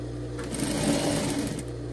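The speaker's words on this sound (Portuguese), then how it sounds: "E aí, você só vem e vai costurar a volta inteira." A sewing machine stitches steadily all the way around a fabric edge while making a bathroom lavatory set with toilet paper holder and hand towel, a continuous close whir with no pauses.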